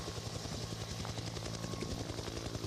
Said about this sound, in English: unfortunately we only had the helicopter sound there